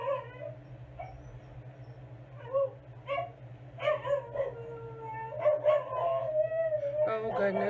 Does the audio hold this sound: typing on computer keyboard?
no